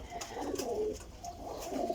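Pigeons cooing steadily, including golden red-winged fancy pigeons kept by a breeder, in low, throaty continuous coos with a soft bird murmur throughout.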